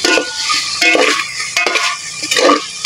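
Pork adobo fries in its own rendered fat in a pan, a bright sizzle broken by several scraping stirs of a utensil against the metal, close and loud without speech.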